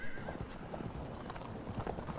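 Hooves of armored cataphract cavalry in the Field of Glory 2 strategy game, a busy steady clip-clop of many horses with an occasional whinny, close and continuous, with faint voices in the background.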